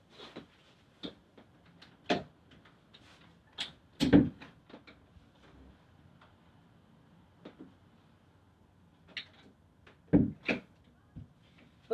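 A door is worked open and pushed shut several times indoors, giving soft knocks, wooden clunks and latch clicks scattered through quiet pauses, with louder thuds near the middle and end.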